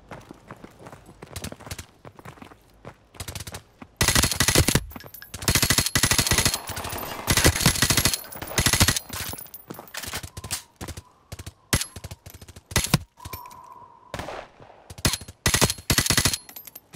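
In the video game Modern Warfare Remastered, loud rapid automatic gunfire comes in long dense bursts and short volleys with brief gaps between them, close and dominant.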